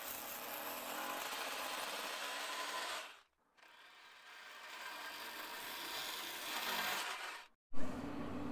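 Power drill boring holes to fix rolling shutter rails, two sustained whirring drilling runs separated by brief pauses, fairly faint and heard alone.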